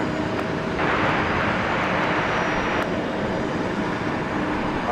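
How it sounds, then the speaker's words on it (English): A Delta Airbus A330-300 jet at Minneapolis–St. Paul airport gives off a steady broad roar at night that swells briefly and then settles back to a constant rushing hum. "Here is Delta 10 Heavy, everybody, with an equipment upgrade tonight with the A330-300 bound for London Heathrow."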